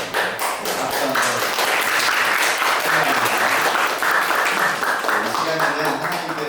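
Church congregation applauding to welcome newcomers during a Sunday morning service, a steady broad wash of clapping from many hands sustained throughout.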